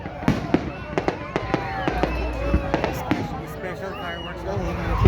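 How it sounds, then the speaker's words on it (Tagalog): Canada Day fireworks over the lake at Oshawa crack and pop in quick, irregular bursts, some sharp and close, others rolling, with excited voices chattering and exclaiming throughout. "Special fireworks lang."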